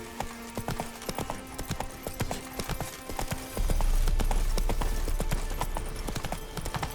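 Roach, the horse in The Witcher 3: Wild Hunt, clip-clops along in a brisk, continuous run of hoofbeats, close and steady, with a low rumble joining partway through and no speech.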